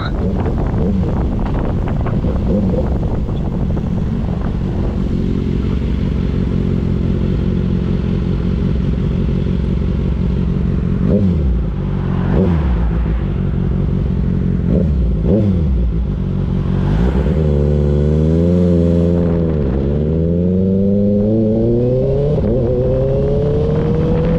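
A Kawasaki Ninja ZX-6R fitted with an Austin Racing exhaust runs continuously while being ridden, its engine droning under heavy wind buffeting, with revs rising and falling through gear changes toward the end.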